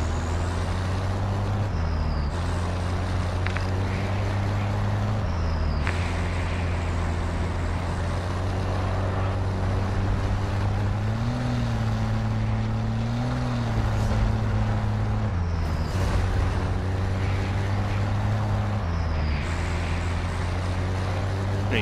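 A vehicle engine in the video game Call of Duty DMZ drones loudly and steadily as the vehicle drives, with the pitch shifting as it changes gears and speed.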